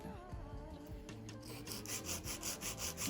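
Hand filing acrylic nails with a 100/100 grit nail file, close and quiet, a rapid rhythmic rasping of short back-and-forth strokes that speeds up toward the end.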